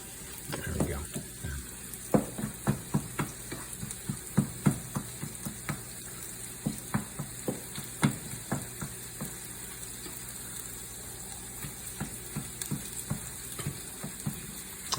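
Ground turkey sizzles steadily in a frying pan with eggplant, broken by frequent scraping clacks of a utensil turning and stirring the meat, close up and continuous throughout.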